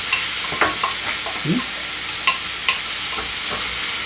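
Food browning in a pan on a stovetop while being stirred, with a steady low sizzle broken by scattered scraping and clinking strokes of a utensil against the pan, close by and moderately loud.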